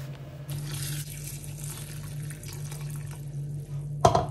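Water running into a bowl of millet grains to wash them, a steady close flow over a low kitchen hum, ending in a brief louder splash, no talking.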